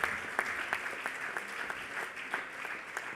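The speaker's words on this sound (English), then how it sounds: "Can I have a pretty huge round of applause on this one?" Applause from an audience at an industry awards event, scattered distinct claps at moderate distance, fairly faint and steady across the moment.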